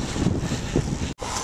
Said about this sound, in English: And it's a little windy